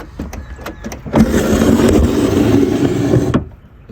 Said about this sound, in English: I want you to listen to this grind here.